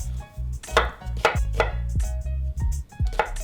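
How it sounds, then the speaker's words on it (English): A knife chops onions on a cutting board, with sharp close thuds in an irregular rhythm, about eight strikes, loud and alone. "And let's chop them all up."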